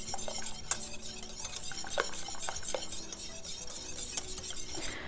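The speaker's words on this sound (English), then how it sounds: "So I'm just stirring to try to avoid that skin." A spoon stirs cooked raw-milk pudding for fudgsicles in a cook-proof glass pot, making repeated scraping strokes with sharp clinks against the glass. The sound is close and steady throughout, with no talking.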